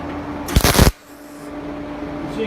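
Tack welding of bashed, gnarly metal branches for a butterfly sculpture: one short, loud crackling burst of about half a second, then a low steady workshop hum.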